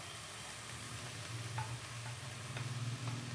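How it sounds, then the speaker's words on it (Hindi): Capsicum sizzles softly while frying in oil in a pan, a faint, steady crackling hiss with occasional light pops and stirring, heard without talk. "शिमला मिर्च को हम डाल देंगे उसी ऑयल में"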